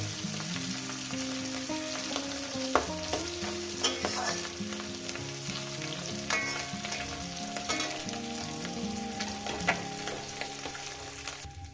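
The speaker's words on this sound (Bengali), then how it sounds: "এই পিঠটা এরকম হালকা করে ভেজে নেবো" Mola carplet fish frying in a pan, a continuous close sizzle with scattered pops and occasional stirring scrapes, no voices.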